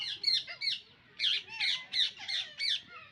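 Parrots squawk in a garden, giving a run of loud, harsh, rhythmic calls close by with short pauses between them and no talking.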